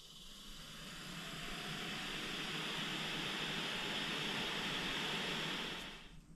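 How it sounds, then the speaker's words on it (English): A diesel heater's fan runs on direct battery power, a steady broadband whir holding level for several seconds before cutting off near the end. "This light bulb should light up, and the fan should spin when I connect this battery."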